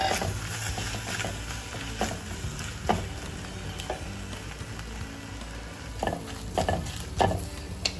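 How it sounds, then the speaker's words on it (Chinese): Shrimp shells stir-fried in a pot for tom yum soup, giving a steady near sizzle with scraping stirs and occasional clanks of the utensil against the pot, alone without talk. "这锅把这个虾壳放下去炒"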